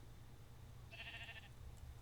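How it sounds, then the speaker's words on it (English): A single short, nasal sheep bleat from Minecraft, soft and a little distant, rising briefly over a low steady hum. "A sheep. Very loud."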